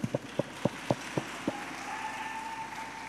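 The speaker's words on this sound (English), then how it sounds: "Clap her up, clap her up" A short burst of scattered claps from an audience at a school physical education and sport session, about seven distinct claps that fade out, followed by quiet room noise.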